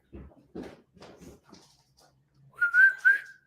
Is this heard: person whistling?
yes